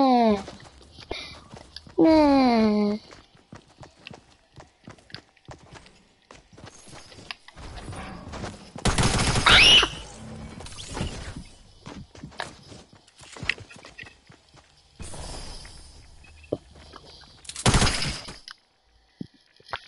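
Bursts of video game gunfire crack out in short volleys during a first livestream, mixed with a loud synthetic tonal effect and other game sounds, with a player talking over parts of it.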